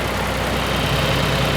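A tractor engine idles steadily and loudly, a constant low mechanical drone with an even rhythmic chug throughout and no other sounds over it.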